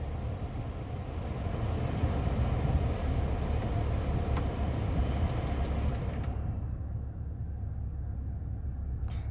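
A 2014 Toyota Tundra Platinum 4X4 with the 5.7 V8 and 77,000 miles idles with a steady, quiet low rumble that holds evenly throughout, with no voices over it.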